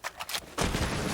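SMG fire used to open a wall in Rainbow Six Siege on the Villa map, a few quick bursts of shots followed by a louder sustained burst with crumbling impact noise.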